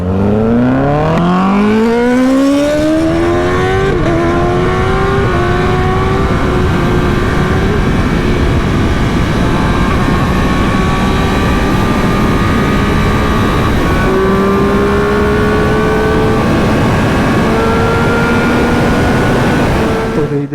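Sport motorcycles such as a Kawasaki ZX-10RR, Ducati V4S and BMW S1000RR revving hard at full throttle, very loud and close, with the engine pitch climbing steeply and then holding a sustained high whine over roaring wind noise.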